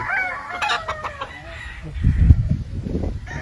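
Gamefowl battle stag on a farm crowing close by, followed by a burst of low clucking, loud and alone.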